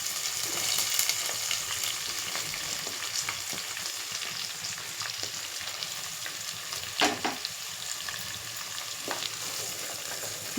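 Onion and green chillies fry in a pan with dried prawns, making a continuous loud sizzle with occasional sharp stirring scrapes and clicks.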